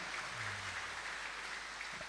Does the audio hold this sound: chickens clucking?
no